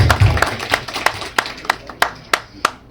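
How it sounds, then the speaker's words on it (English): A single person claps about ten times at a steady pace at an event for an Indian Muslim American elected councilman in Naperville, each clap sharp and close. "applause."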